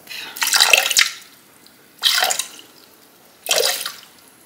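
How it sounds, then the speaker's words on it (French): Water poured into a kitchen robot's mixing bowl in three separate splashing bursts, each about a second long, close and fairly loud with quiet gaps between. "Là ça nous dit de mettre 300 g d'eau"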